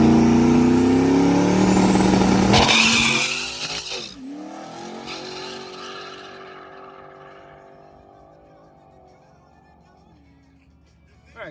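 A turbocharged Mustang drag car launches hard at a test and grudge race, its engine roaring as the tires squeal and lose traction, then the sound fades away into the distance.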